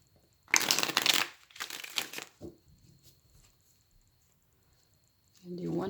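Tarot deck being shuffled by hand: two bursts of riffling card noise close up, a short tap after, then quiet before a soft rustle at the end.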